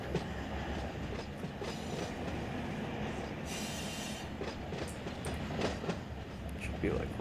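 Freight train cars roll past in the Run8 Train Simulator game, a continuous rumble with clickety-clack wheel beats and a few squealing wheel moments, steady and fairly close, with a voice talking over it.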